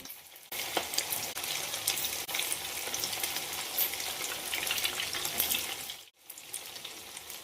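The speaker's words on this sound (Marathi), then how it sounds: "आता हे वडे आपण रोल तळून घेऊया" Rolls made from leftover rice fry in hot oil over medium heat, a dense continuous sizzle and crackle close by that dips briefly near the end, with no voices.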